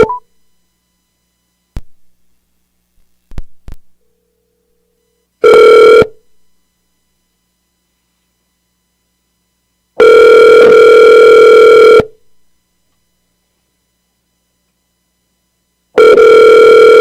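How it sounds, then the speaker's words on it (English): A telephone call rings out on the line with a few faint clicks, then loud repeated electronic ring tones in long bursts separated by silent gaps. No one speaks. "All right, so the phone is ringing, and I will wait to see if she does answer."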